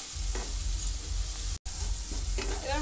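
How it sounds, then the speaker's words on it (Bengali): Spices and salt stirred and fried in a pan for a hilsa fish roe dish: a steady close sizzle with scraping spoon strokes and a brief break midway, no talking. "এবার মশলাগুলোকে ভালোভাবে কষাতে হবে যতক্ষণ না সব মশলা ভাজা হয়ে যায়"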